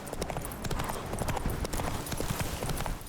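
Roach, the horse in The Witcher 3, gallops with fast, steady clip-clop hoofbeats running close and continuous throughout.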